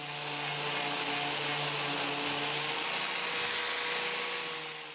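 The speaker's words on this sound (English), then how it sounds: "swapped out that disc, like I said, for a wire brush" A wire brush wheel on a power tool scours rust from the fenders and tailgate of a pickup truck, giving a loud, steady, unbroken whirring grind with a faint high hum that holds for the whole stretch.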